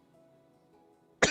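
A person gives a single sharp cough near the end, loud and close, after a quiet stretch with only faint background hum.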